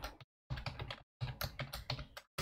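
Bursts of quick, close keystrokes on a computer keyboard as a password is typed at a server terminal, three clusters of rapid clicking separated by short silent pauses.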